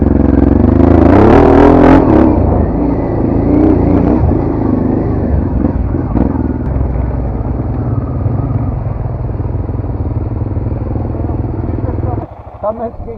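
Vehicle engine revving hard on a wet mountain road with traction control engaging, loud and close: a strong rev surge early, then a sustained rough drone and clatter with people talking over it.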